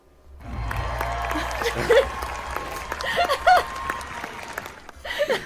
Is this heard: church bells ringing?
no